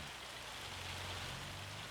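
Steady rain falls on a farm as an even, dense hiss with no breaks, and a faint low hum runs beneath it.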